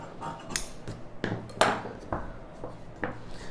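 Scissors cut through blouse lining fabric, giving a series of sharp, close snips at an uneven pace with short quiet gaps between them and no voices.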